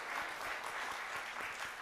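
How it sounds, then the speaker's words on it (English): Audience applauding after a STEM lecture event, a steady wash of many hands clapping that holds for the whole moment at moderate volume. "Can we get a round of applause?"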